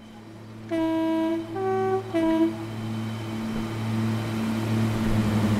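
A Northern Pacer train in Train Sim World 4 on the Blackpool Branches route sounds a two-tone horn in three short blasts, then its diesel engine drones steadily underneath, loud and close.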